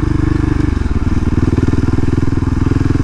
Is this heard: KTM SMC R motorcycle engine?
yes